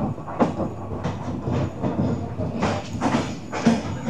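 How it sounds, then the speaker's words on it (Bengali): Kapotaksha Express passenger train running on rails after leaving Safdarpur station, with steady rumbling wheel noise and rhythmic clacks over rail joints throughout, heard from inside the carriage. "সফদারপুর স্টেশন থেকে আমাদের ট্রেন ছেড়ে দিল"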